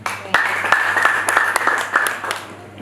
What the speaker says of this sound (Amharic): አጨብጭቡና ቁጭ በሉ።